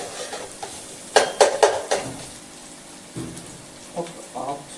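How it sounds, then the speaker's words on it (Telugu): Ginger paste frying in hot oil while chicken fry is cooked, with a steady low sizzle under several sharp clinks and scrapes of a utensil stirring in the pan, close and moderately loud. "ఆ నూనెలో అల్లం పేస్ట్ కూడా వేగిందండి నూనెలో."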